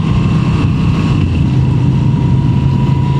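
Moto Guzzi V7 Stone V-twin motorcycle engine on the 2025 model, held at about 3,000 RPM while riding: a steady, loud low drone with constant wind rush and no break throughout.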